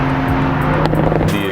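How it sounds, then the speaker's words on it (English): A BMW Z4 roadster's engine and exhaust drone steadily while driving on a misty road, a loud, continuous note with a slight swell, and no talking over it. "The exhaust note on this is incredible."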